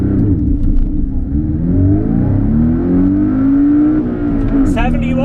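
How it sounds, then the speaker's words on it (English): A Porsche 718 Cayman with a six-speed manual gearbox accelerates hard to 100 km/h, its engine note climbing steadily in pitch, loud and close from start to finish. "Takes a little more than 4 seconds to get the new Cayman up to 100 kilometers per hour."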